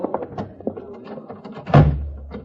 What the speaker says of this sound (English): All right, close the door